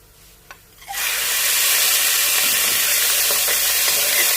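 Boneless chicken drops into a hot pan of chopped garlic and starts frying, bursting into a loud, steady sizzle that fills the scene after a brief quiet moment and holds without letting up.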